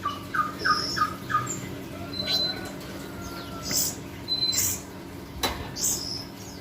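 A pet bird with coconut oil rubbed on its beak gives short high chirps and squeaky calls, a quick run of chirps at first and then scattered calls, fairly close, over low background noise.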